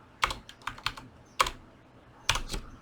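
A computer keyboard gives a few crisp, close key clicks in small irregular bursts, with a couple of sharper taps spaced apart, and no voices over them.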